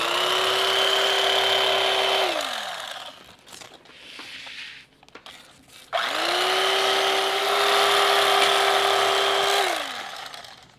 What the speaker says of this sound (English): Get our turkey carver again, and then we're just gonna trim around this